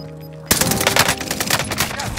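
Sudden burst of rapid automatic gunfire in the Warzone video game, loud and close, erupting after a short quiet and continuing as a dense rattling stream.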